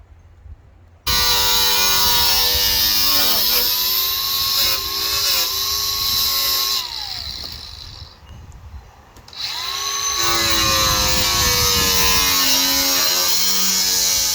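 A power tool cuts through the hood of a 2000 Honda Civic, a loud sustained whine with shifting pitch that dips for a few seconds midway before resuming at full strength.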